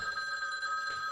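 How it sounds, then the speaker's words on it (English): An old 1970s–80s rotary telephone rings in a 1984 slasher movie, a steady electric bell trill, quiet and somewhat distant, with no voices over it. "The old 70s, 80s rotary phone ring noise. Love that sound."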